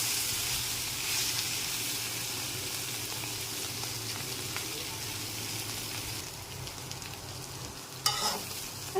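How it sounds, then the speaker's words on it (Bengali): Bitter gourd frying in oil with onion and garlic gives a steady sizzle and hiss close by, with light stirring and a sharper clatter near the end, and no voices. "তেল একবারে যা দিয়েছি তা আর দেওয়া লাগে না, সেই একই তেলেই ভাজা হয়ে যাবে।"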